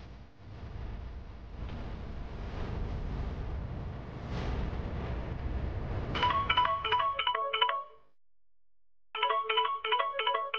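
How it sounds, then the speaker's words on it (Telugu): A phone ringtone for an incoming call starts after a stretch of dramatic background noise, playing a loud, bright repeating electronic melody in two bursts separated by a short silence, with no talking. "ఆ ఫైనాన్షియర్ ఫోన్ చేస్తున్నాడు."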